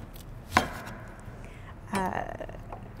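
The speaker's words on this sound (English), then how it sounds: "So we're gonna cut up this onion right here." An onion being cut with a sharp kitchen knife into chunky pieces: one sharp chop on the board followed later by a short burst of slicing, close and fairly quiet.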